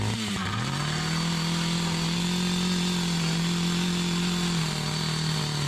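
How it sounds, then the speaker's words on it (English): A chainsaw cuts a hole through pond ice in the snow, its engine revving up sharply at the start and then holding a steady, loud, close drone throughout, with no talking. "I'm going to try to take my chainsaw and cut out my hole there."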